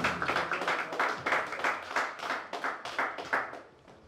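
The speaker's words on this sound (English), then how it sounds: "A round of applause for him" An audience applauds Reverend Desmond Anyamu at a gathering just before he leads a short prayer. Dense, steady clapping from many hands lasts about four seconds nearby, then tapers off at the end.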